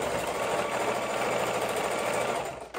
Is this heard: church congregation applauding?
no